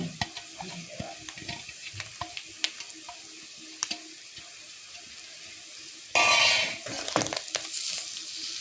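Boti, goat tripe fry, sizzles steadily in a pan with scattered stirring clicks and scrapes, then a louder burst of hissing sizzle near the end, close and clear with no talking.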